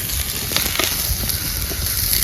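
Chopped onion sizzling and frying in a hot kadhai for chicken thick gravy, cooked outdoors on a farm, with a steady loud crackle and a few soft stirring scrapes, no voices.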